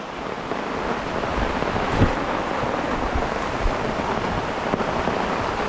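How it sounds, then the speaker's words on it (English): Strong wind roars during a thunderstorm at a campsite, a loud, constant rushing wash with gusts and buffeting against the microphone and no voices. "The wind is picking up."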